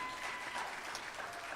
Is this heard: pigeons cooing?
no